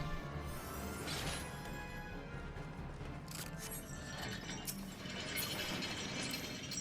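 A chain winch in a Zelda-style video game dungeon clanks and ratchets with continuous mechanical rattling and metallic clinks at moderate volume, with no talking.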